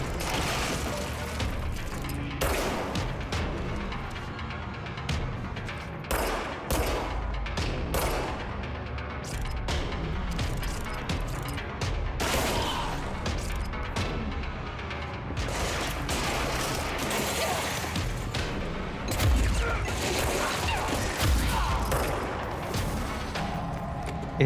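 Sustained gunfire in the video game Control, rapid clattering shots and mechanical clanks over a dense, loud combat din lasting throughout, with no pauses.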